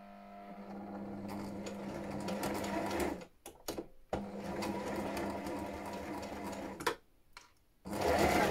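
A sewing machine stitches stretch fabric with a ballpoint needle, humming in a steady, close mechanical whir. The motor pauses briefly twice, then runs again, ending in a louder burst.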